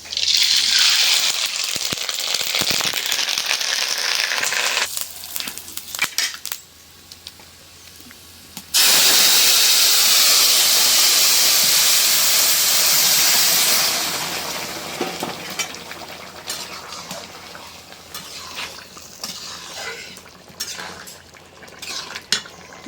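Mustard paste and bottle gourd tempering in a hot pan: a loud, bright hissing sizzle that briefly drops away and then surges back, mixed with clinks of utensils, fading to softer sizzling later, with no talking.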